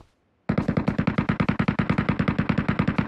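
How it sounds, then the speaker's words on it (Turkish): Rapid automatic gunfire in the PUBG Mobile Metro Royale video game, starting abruptly after a short silence and continuing as a loud, steady burst of closely spaced shots. "Adamı görmedin de silah sesi geldi."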